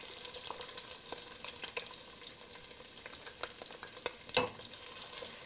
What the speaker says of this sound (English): I put the garlic, they gotta fry